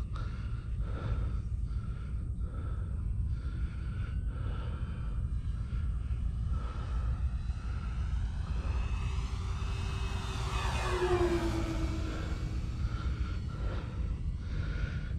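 An FMS F7F Tigercat RC model plane flies at half throttle with a steady engine drone, and its pitch sweeps audibly as it passes close by partway through.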